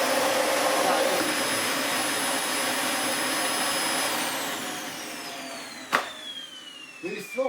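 A Dyson DC40 Mk1 vacuum cleaner with a faulty floor head runs with a loud, steady motor whine, then spins down and fades, while someone talks over the end.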